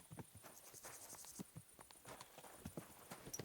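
Horse hooves clopping at a steady walking pace on a road in Kingdom Come: Deliverance II, close and fairly quiet, with insects chirring softly in the background.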